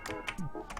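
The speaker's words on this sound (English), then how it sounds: "And I hear button typing." A brief run of a few computer keyboard key presses during pixel-art work in Photoshop, soft clicky taps in an uneven rhythm, close but quiet, with a low background hum.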